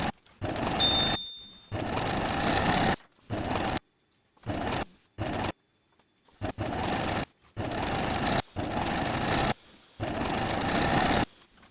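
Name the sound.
sewing machine straight-stitching dress hems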